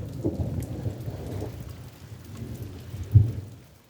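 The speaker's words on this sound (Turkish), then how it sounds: "Şöyle yağmuru bir göstereyim size." Steady rain patters with a low rumbling wash underneath, a soft, continuous outdoor downpour with no voices.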